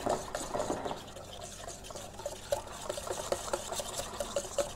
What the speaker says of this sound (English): I'm just going to whisk it